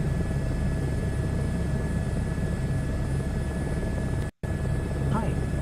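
A helicopter in Microsoft Flight Simulator 2024 gives a continuous, loud rotor and turbine drone with a steady whine, unchanging throughout.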